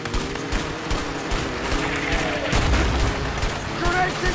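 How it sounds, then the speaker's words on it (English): Grenade explosions in the action game A Way Out: deep, heavy booms with scattered gunfire crackle, loud and close, with voices mixed underneath. "Grenades incoming."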